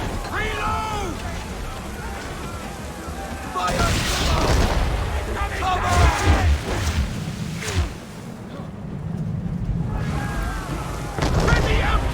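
Ship cannons fire in Assassin's Creed III during a naval sailing battle, a series of booming blasts over several seconds, while voices shout commands and the wind and sea rumble around them.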